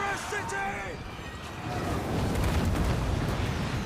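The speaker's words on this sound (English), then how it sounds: "your cannon firing over here" Booming cannon fire and impacts rumble continuously through a Total War: Warhammer III battle, a dense low roar swelling after a quieter opening, with a voice speaking over the din.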